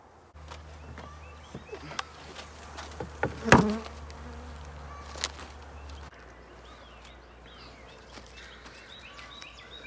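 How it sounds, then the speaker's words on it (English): At a beehive, a bee trapped inside a queen cage buzzes steadily and faintly close by, with a sharp knock or tap in the middle and no talking. "There is a bee inside of there."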